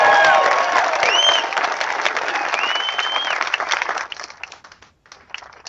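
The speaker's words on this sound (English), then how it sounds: "We want to give a big round of applause for the Boise Police Department" Rally crowd at a Second Amendment gathering in Boise, Idaho, applauding and cheering loudly in a sustained wash of clapping that fades toward the end, with a few scattered claps and whoops remaining.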